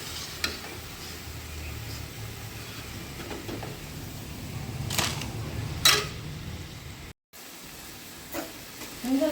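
Fritter balls (bora) fry gently in oil over a low flame, a steady soft sizzle with occasional sharper crackles and a few clinks of a utensil.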